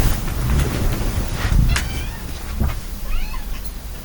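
A cat meows a few times, drawn-out and fairly clear, over a constant background hiss, with a quiet voice nearby.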